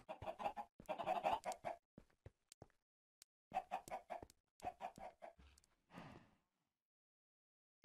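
Chickens on a farm in the video game Minecraft cluck in short bursts separated by brief pauses, clear and close, with a few soft clicks between them.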